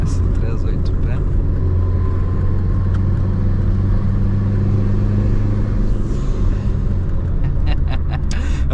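A Corsa 1.6 turbo street car with an S38P turbo and a slight manifold leak idles close up, a steady loud rumble that never lets up, with a voice talking over it.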